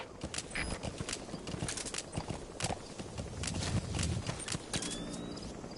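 A horse gallops in Metal Gear Solid V, its hooves striking in quick, irregular clip-clop beats close up, with gear rattles and a faint whinny-like tone mixed in; no speech over it.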